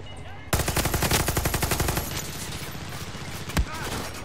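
Automatic gunfire in the video game Far Cry 6 rattles off in a loud, rapid burst lasting about a second and a half, then continues as lighter shots with a sharp single bang near the end.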